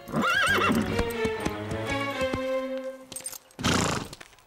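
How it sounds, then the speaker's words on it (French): A cartoon horse gives a wavering, high neigh, then hooves clip-clop in a quick series of sharp knocks, followed by a short burst of snorting or whinnying, loud and close. "Diablo est un cheval très intelligent, plein de fougue, mais qui refuse d'obéir"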